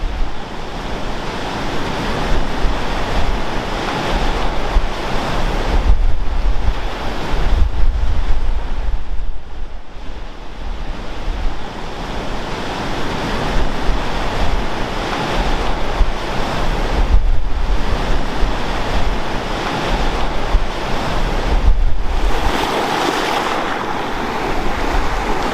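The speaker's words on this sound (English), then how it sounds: "the wind is absolutely howling" Strong wind roars across the Lake Superior shoreline as waves crash and surge, heavy gusts buffeting the microphone in a continuous loud rumble with no voices.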